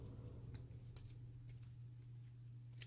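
Scissors snipping paper craft material, several quiet, crisp cuts spaced irregularly over a low steady hum.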